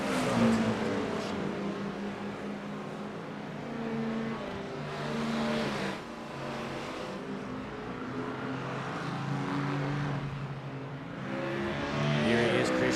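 An Aston Martin race car engine drones and swells through repeated acceleration and gear changes during a multi-class IMSA race at Autodromo Internazionale Imola in iRacing, steady and moderately loud, with faint commentary underneath.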